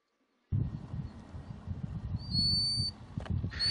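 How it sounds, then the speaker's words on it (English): Birds by a shoreline on the Isle of Mull give a few thin, high whistling calls over a noisy, rumbling outdoor background, faint and brief near the end. "there's just birds everywhere, singing and protecting their young"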